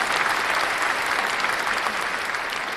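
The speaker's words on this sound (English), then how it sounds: "We've got to give that a clap." Steady, dense applause from a crowd, a continuous wash of many hands clapping at an even level with no pauses or voices standing out.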